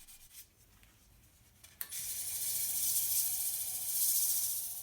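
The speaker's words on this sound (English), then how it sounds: "You can actually tell just by the sound it makes when I'm rubbing the paper towel over it." Paper towel rubbed over a light, thin-walled turned sassafras wooden bowl, a close, steady hissing rub that starts after a brief knock and continues with slight swells.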